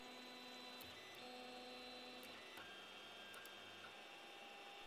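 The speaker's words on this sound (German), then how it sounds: "Nach dem erneuten Homing des Druckers beginnt das Leveln des Druckbetts." A Creality CR-10S 3D printer homes and levels its print bed, its stepper motors giving a steady whirring hum with faint shifting tones and a few soft clicks, quiet and continuous with no voices.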